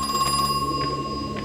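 A telephone rings in the video game Crow Country, a bright electronic trill sounding in repeated short bursts over a steady tonal game hum.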